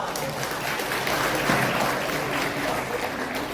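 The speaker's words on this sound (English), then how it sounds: "Give yourself a round of applause." Audience applause fills the room at a leadership talk, a steady, dense clapping that stays loud and even for a few seconds with no talking over it.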